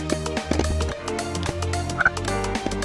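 A little frog in the Minecraft video game croaks in short, repeated low calls over steady background music.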